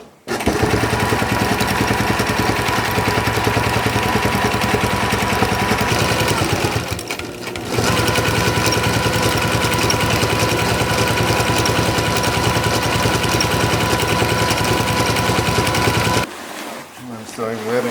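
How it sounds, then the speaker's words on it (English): A sewing machine stitches webbing for sailboat chafe gear with a loud, continuous rapid clatter close by. It pauses briefly once, then runs on before stopping near the end. "I'm sewing webbing onto things for chafe gear or whatnot."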